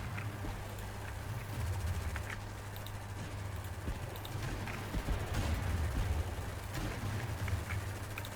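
Several units in the strategy video game Silica fire their weapons in faint, distant, continuous rattling bursts of gunfire against a low, steady background rumble.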